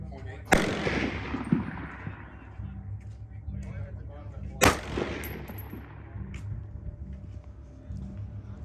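Two sharp, loud AR-6.5 Grendel rifle shots crack out at a shooting range about four seconds apart, each followed by a long fading echo, over steady low background rumble.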